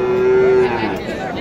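A single pregnant cow at a rural cattle market in Naogaon gives one loud, close moo lasting over half a second, followed by a fading, lower call against a background of market bustle.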